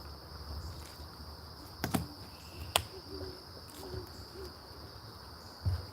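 At a roosting spot in foggy, dark woods, a great horned owl gives a short series of soft, low hoots from some distance. A steady high insect chirring runs underneath, with a few faint clicks and knocks.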